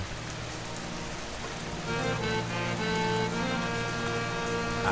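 Rain pours steadily onto surfaces, a dense hiss that grows louder partway through, with faint tonal background sounds mixed in.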